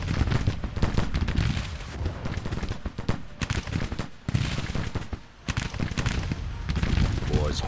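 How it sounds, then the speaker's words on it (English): Civil War musket fire in the strategy game Grand Tactician: The Civil War, with dense ragged volleys and crackling shots rolling on and off in waves, loud and continuous with brief lulls. "Start shooting them."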